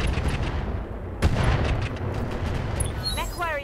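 Mech weapons in the video game Roguetech fire in a heavy barrage of booming shots and rumbling blasts over a constant low drone. A sharp impact stands out midway, and a radio-style voice talks over the battle.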